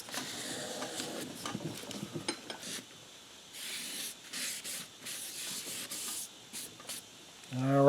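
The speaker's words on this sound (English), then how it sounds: "I want to wipe this grease off with some brake cleaner" Brake cleaner is sprayed onto greasy rear brake parts from a 1999 Honda FourTrax 300 ATV, heard as quiet, close hissing bursts in a broken rhythm, mixed with rubbing and wiping.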